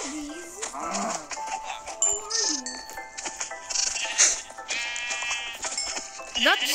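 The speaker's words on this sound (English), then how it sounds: "I accidentally killed the yellow sheep." Sheep bleat in Minecraft, several short calls scattered through the clip among game sound effects, with a person talking over them.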